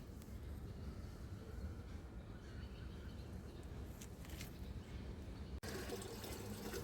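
Municipal Manjira supply water runs steadily into drums being filled for bathing, a continuous rushing, splashing flow close by with no voices over it.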